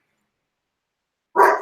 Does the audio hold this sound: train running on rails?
no